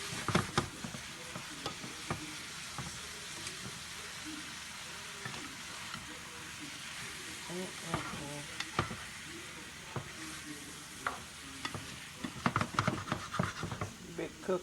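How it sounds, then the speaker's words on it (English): Jambalaya with rice is stirred in a pan over gentle sizzling, with repeated scraping strokes of a spoon against the pan close by, clearly audible. "I'm just stirring everything and getting it all incorporated together."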